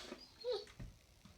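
A dog lets out a brief, soft whimper, a short yip and a faint low huff, all quiet and close within little more than a second.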